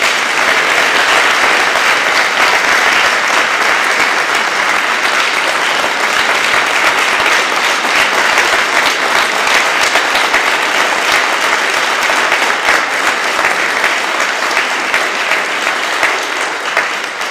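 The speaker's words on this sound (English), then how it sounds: "a big round of applause" A large crowd at a town meeting applauds loudly and steadily, a dense unbroken wash of clapping lasting throughout.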